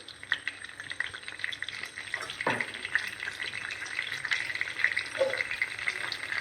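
Brinjal pieces fry in hot oil with salt in a pan, a steady close sizzle running throughout with occasional stirring scrapes and one brief knock.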